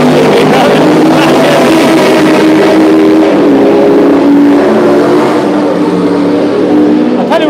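Race cars roar past on the pit straight at Mondello Racing Circuit during its 50th anniversary event, a loud, continuous engine drone with rising and falling pitch that dominates the whole stretch.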